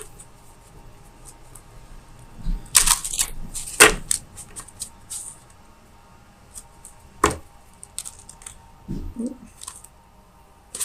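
Tarot cards being shuffled by hand, heard as a few sharp riffling bursts and soft papery slaps at close range, separated by quiet gaps and light handling noises.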